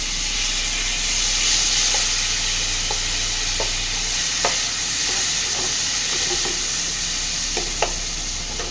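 Chopped tomato goes into a hot frying pan for moong dal with fish head, making a loud steady sizzle and hiss throughout with scattered small pops and crackles, close by, with no talking.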